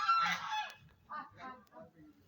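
A swan gives a loud nasal honk, followed by a few shorter, quieter honking calls over about two seconds, close by.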